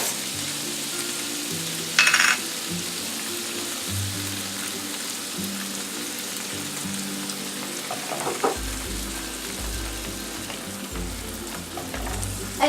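Shrimp stir fry with President's Choice lemon ginger sauce sizzling steadily in the pan after the sauce goes in, a continuous close frying hiss with a brief clatter early and low rumbling knocks toward the end.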